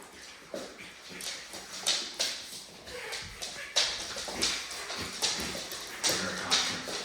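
A Doberman and German Shepherd mix dog during a training session gives repeated short whines and mouthy vocal bursts, roughly every second or so, fairly close, over a quiet background.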